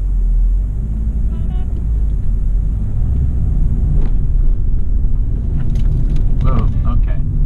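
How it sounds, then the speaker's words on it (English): Interior of a self-driving Toyota Corolla accelerating through a turn: a loud, constant low road and engine rumble fills the cabin, with scattered voices and small clicks over it. "It was taking a turn there, but it was accelerating too hard."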